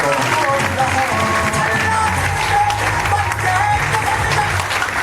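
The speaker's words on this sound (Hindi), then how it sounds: "एक बार जोरदार तालियां हो जाए।" Loud, sustained applause from a crowd fills the whole stretch, dense and steady, with some voices and background music mixed underneath.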